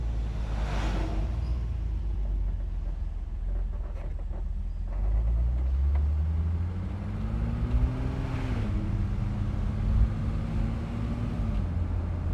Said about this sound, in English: Great, unmistakable six-cylinder exhaust note as well.